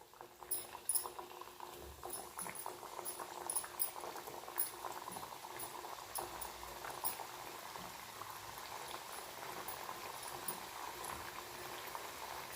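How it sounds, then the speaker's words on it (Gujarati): Pearl millet (bajra) biscuits frying in hot oil give a steady bubbling, crackling sizzle. It runs unbroken and close, with light clicks and pops scattered through it and no voices. "તો હવે આપણે એ જ રીતના બીજા બિસ્કિટ તળી લઈશું"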